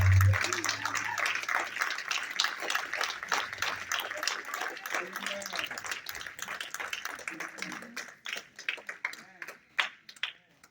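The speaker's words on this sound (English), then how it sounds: "One more time, clap your hands and celebrate our mayor." An audience claps and cheers for Chicago's mayor at a public gathering with a bishop present, a dense, steady wash of applause that slowly thins toward the end, with a voice talking over it.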